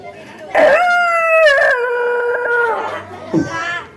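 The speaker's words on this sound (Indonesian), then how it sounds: "Kok suara serigala?" A wolf-like howl rises and holds as a long wavering tone, then trails off, with a shorter yelping cry at the end, loud and close, sounding like an audio effect used to set a spooky mood.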